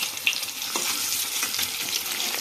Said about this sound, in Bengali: হয়েই গেছে ডিমগুলো ভাজা